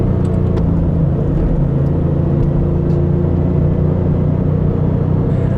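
A 1997 Toyota Supra engine pulling through a corner in second gear: a loud, steady, close-up engine rumble and drone that holds even throughout, without sharp revving.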